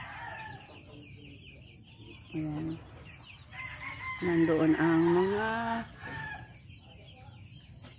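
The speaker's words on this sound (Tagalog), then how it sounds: "Ang asawa ko nagpapakain ng manok." Chickens cluck and crow close by in several bursts while being fed, with a person talking briefly between the calls.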